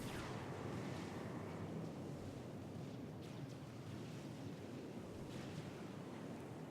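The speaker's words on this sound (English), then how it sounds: "Big splashes all over the water." Big water splashes from shells and torpedoes in a naval RTS battle, heard as a steady broadband wash of surging, churning water with a few faint bursts, no speech.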